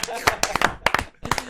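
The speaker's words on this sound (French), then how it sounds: "Applaudissements pour moi." A brief burst of clapping from a few people, close and uneven, mixed with voices talking over it.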